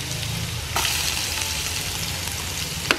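Cooking oil sizzles in a pan on a gas stove while sopas is prepared, a steady crackling hiss with one sharper surge early on and a brief pop near the end.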